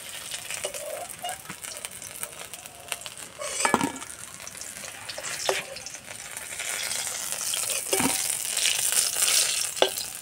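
Flour-dough snacks sizzle steadily while frying in a small amount of oil, with a continuous crackling hiss, a few sharper clinks and stirring scrapes near 3.7, 5.5, 8 and 10 seconds, close and moderately loud, no talking.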